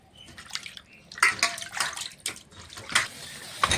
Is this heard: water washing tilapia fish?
yes